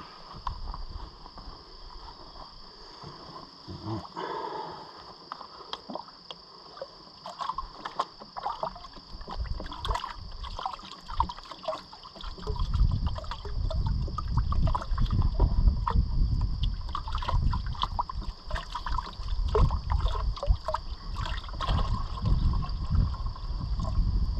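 Dirty water from gold-prospecting sluice concentrates pours out in a steady, gurgling splash, quieter at first and then swelling into a fuller rushing stream for the second half.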